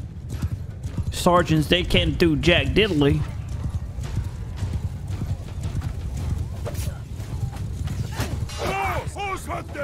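Horses galloping in the video game Mount & Blade 2: Bannerlord, a steady clip-clop of hooves with an occasional whinny, running continuously beneath loud, excited talk during a battle.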